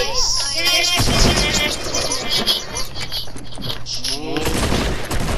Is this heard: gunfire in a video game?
yes